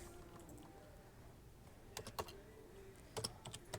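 Fingers tap a computer keyboard in two quiet clusters of quick keystrokes, separated by a stretch of near-silent room tone.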